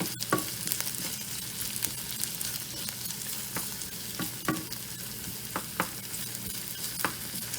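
Onions sizzling steadily in a frying pan, punctuated by scraping stir strokes against the pan throughout.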